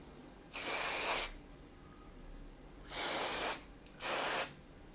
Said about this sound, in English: I will try to spray it all around here